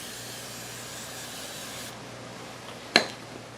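Glass cleaner sprayed onto the sanded headlight lenses of a 2001 Lexus IS300, a steady soft hiss with one sharp, close spritz near the end.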